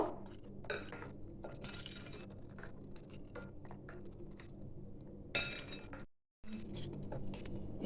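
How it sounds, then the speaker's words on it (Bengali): A spoon stirs sugar into milk in a pot for a sabudana fruit custard, making soft, irregular clinks and scrapes against the metal, quiet and close, with no talking. "এটা ভালো করে আমি মিশিয়ে নেব।"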